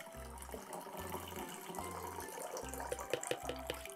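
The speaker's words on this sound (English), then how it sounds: "Now you can add the rest of the water, Mike." Water runs and splashes as the rest is poured into a mixture, a close, continuous liquid sound with low rhythmic thuds pulsing underneath.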